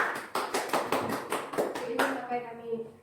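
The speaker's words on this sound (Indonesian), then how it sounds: "Kita berikan tepuk tangan" A classroom group claps together for a presentation, a burst of quick, fairly close hand claps that thins out over about two seconds, followed by a voice speaking.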